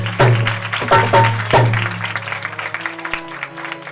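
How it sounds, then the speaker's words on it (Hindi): Congregation at a Palm Sunday evangelical church service clapping together in a few loud, sharp bursts, then settling into softer scattered claps beneath a sustained singing or organ tone. "आए ताली बजाएंगे यीशु के लिए।"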